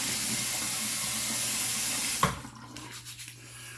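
Water from a tap runs steadily while a stainless steel shavette razor is rinsed, then shuts off, leaving a few small drips and handling knocks near the sink with no talking.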